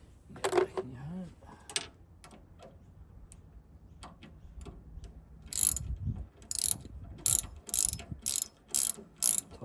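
A socket ratchet loosening 6mm bolts on a Valiant Charger during a catch can install: a few scattered clicks early, then a run of loud, evenly spaced bursts of close ratcheting near the end.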